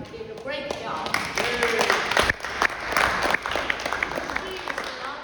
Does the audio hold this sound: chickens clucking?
no